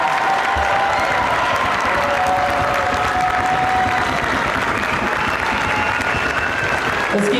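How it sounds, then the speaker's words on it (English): An audience applauds a sixth grade band at an all-city school band concert, dense sustained clapping from a large crowd filling the hall loudly and evenly throughout, with a voice speaking over it. "Let's keep your applause going for the 6th grade band."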